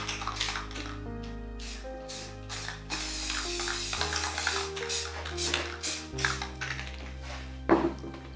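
Spray paint cans hiss in short bursts while black is laid over red on a space-themed painting, with small rattles and clicks from the cans between the close, bright sprays.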